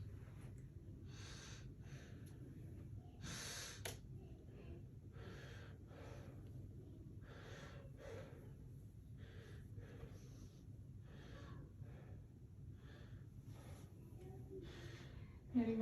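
A patient takes slow, deep breaths during a lung auscultation exam, the faint whooshing inhales and exhales recurring in a regular rhythm in a quiet room.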